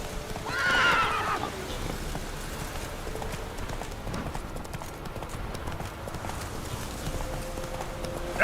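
Roach, a horse in the Witcher 3 video game, lets out a loud whinny near the start, then gallops on with steady hoofbeats over wind and ambient game noise.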